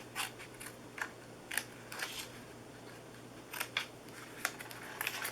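Scissors snip paper repeatedly, crisp sharp cuts close by at an irregular pace, in an otherwise quiet room with a faint hum.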